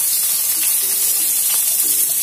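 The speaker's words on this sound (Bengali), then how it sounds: "দিয়ে দিচ্ছি তেলের মধ্যে সরু করে কেটে নেওয়া ফুলকপির ডাঁটা" Thinly cut, salted and boiled cauliflower stalks frying in hot oil, giving a steady, loud, close hiss and sizzle throughout.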